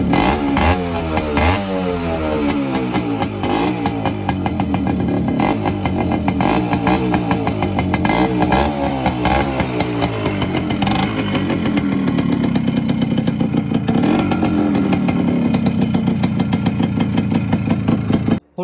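A modified Yamaha RX100 two-stroke motorcycle engine revs hard and continuously, close by and loud, with rising and falling throttle blips over a steady buzzing idle and no talk.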